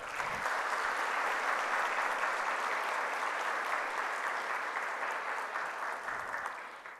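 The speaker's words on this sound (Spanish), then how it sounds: "Un aplauso, por favor." Steady, loud applause from a seated audience at a university degree ceremony, sustained without pause for several seconds and tapering slightly at the end.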